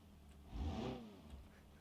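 Car engine in BeamNG.drive multiplayer, a radiator-less car low on fuel, giving a brief faint rev that swells and fades over about a second, alone with no talking.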